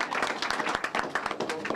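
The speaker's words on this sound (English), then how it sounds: "Give her a round of applause." At a community center teen center opening, a small audience claps briefly, the quick overlapping claps coming fairly close, with a murmur of voices underneath.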